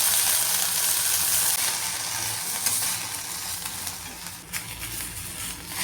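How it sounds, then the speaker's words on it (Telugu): Cleaned coriander leaves sizzle and fry steadily in a hot pan for kothimeera pachadi, a continuous close hiss with faint stirring scrapes and no talking. "శుభ్రం చేసుకున్న కొత్తిమీర వేయించుకుందాము."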